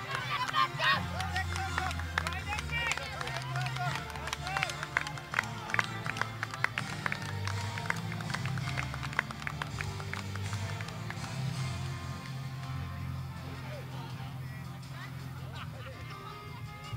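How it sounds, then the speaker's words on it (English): Spectators at a racing event clap for the racers, the clapping brisk and distant at first and then thinning, heard under a low, steady hum and some talking. "Another round of applause to them."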